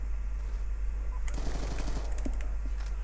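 Automated sentry gun firing in a first-person shooter video game, a rapid stream of close, sharp shots rattling for about two seconds over a steady low hum.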